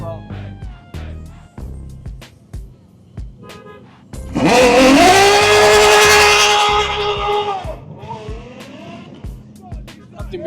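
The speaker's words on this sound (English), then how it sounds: "Nothing beats a naturally aspirated V12." Naturally aspirated V12 supercar at a car meet revving hard, a loud rising howl that climbs for a few seconds and then falls away, with people talking around it and background crowd noise.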